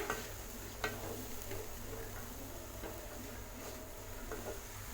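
Cabbage poriyal with grated coconut is stirred in a pan, a gentle sizzle running under scattered light scrapes and ticks of the spoon against the metal, close and fairly quiet, with no talking.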